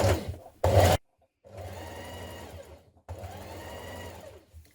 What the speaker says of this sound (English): Now top stitch your shoulder seam towards the back.